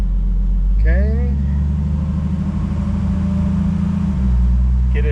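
A Jeep Wrangler with the 4.0 engine and an aftermarket exhaust header runs in second gear, drone deepening as revs build and then settle, loud and close, with a voice talking briefly near the start.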